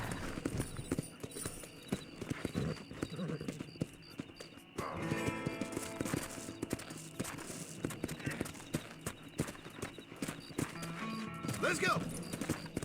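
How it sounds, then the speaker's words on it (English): Hoofbeats clop steadily from a horse in the Red Dead Redemption video game, a continuous trotting rhythm mixed with game sounds and other ambient noise, fairly faint overall. "if I can get on my horse when we do this"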